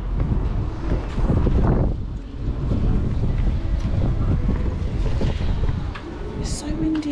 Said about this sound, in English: It's so windy over here.